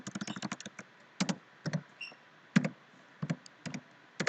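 Keystrokes on a computer keyboard while entering a command in a router CLI, a rapid burst of close clicks followed by sparser separate taps and short clusters, crisp and alone with no talk.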